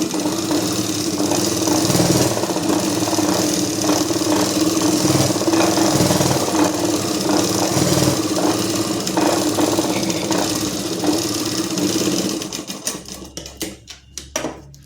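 A sewing machine stitches a curved, round hem along the bottom of a salwar, a steady close mechanical whirr running continuously before slowing and stopping near the end.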